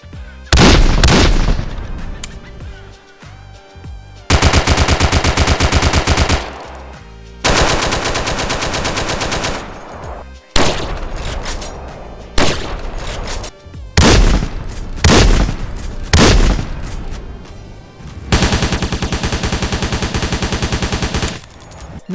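Remastered weapon gunfire from GTA San Andreas with a sound mod adding echo and realistic effects: loud repeated automatic bursts and single heavy shots, each bursting out then ringing off in echoing tails, with brief gaps between volleys.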